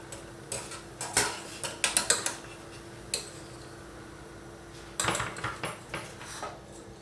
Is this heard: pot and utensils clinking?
yes